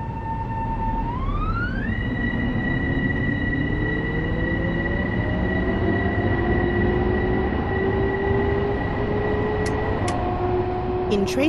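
A Harlem Line commuter train in Train Sim World 2 pulls away, its electric motors whining upward in pitch over a steady rumble of rolling wheels, loud and continuous, with brief clicks near the end.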